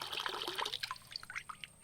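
Water running from a tank tap in a village, a close splashing trickle that gurgles and drips unevenly.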